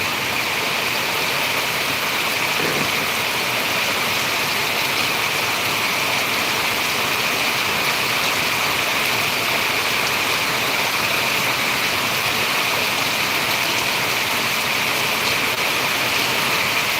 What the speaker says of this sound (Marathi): आता मी एका पत्र्याखाली आहे त्या पत्र्याचा आवाज येत असेल जोरात जोरात पावसाचा